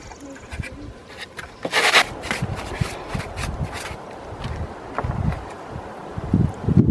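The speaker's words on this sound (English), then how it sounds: "It's quite windy here." Gusty wind rushes past outdoors in uneven bursts, with rumbling buffeting against the microphone and light rustling throughout; no one speaks.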